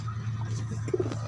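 Pigeons cooing in a loft, low soft throaty coos under a constant background hum, close by and brief.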